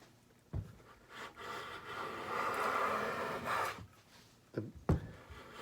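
Stanley No. 7 hand plane jointing a board edge makes a long, smooth rasping stroke lasting a few seconds, then short scraping pushes and knocks of wood.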